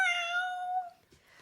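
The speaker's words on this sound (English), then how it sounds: "Bad cat." A cat lets out one clear, drawn-out meow that is loud and close, tapering off after about a second into near silence.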